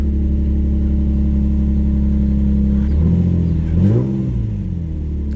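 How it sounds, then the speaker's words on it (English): A project car's engine idles steadily, then revs up and settles back down, loud and close with no talking. "Engine sounds great"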